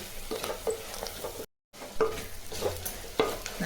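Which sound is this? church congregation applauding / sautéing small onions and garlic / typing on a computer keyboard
sautéing small onions and garlic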